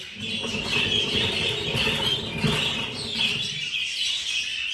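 Dense, excited chirping and squeaking from many budgerigars, continuous and fairly loud, with a steady bright chatter throughout.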